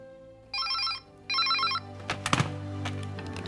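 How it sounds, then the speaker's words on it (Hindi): A telephone rings in two clear bursts in a Hindi TV drama household scene, followed by a thunk as it is picked up and a low hum beneath. "जी एक मिनट, अमन तुम्हारे लिए फोन है।"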